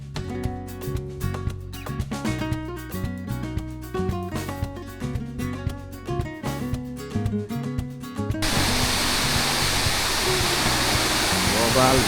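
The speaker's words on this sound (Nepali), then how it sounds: "झरना त धेरै ठुलो रहेछ।" Lauke Jharana, a large waterfall near Kathmandu swollen and muddy after rain, gives a steady broadband roar that takes over abruptly after several seconds of rhythmic music and continues loud and close.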